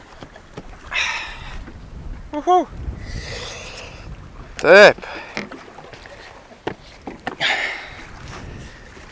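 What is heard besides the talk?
wind at sea while rowing on the Atlantic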